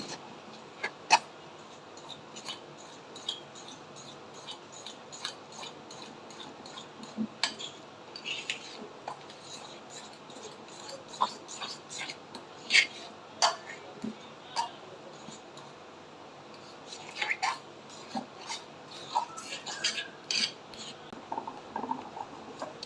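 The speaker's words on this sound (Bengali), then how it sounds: "এখন আমি সম্পূর্ণ ব্যাটারটা ভালো করে মিশিয়ে নিচ্ছি" A utensil stirs and scrapes banana cake batter in a bowl, making faint irregular clinks and taps that come in scattered bursts over a quiet background, with some denser clatter near the end.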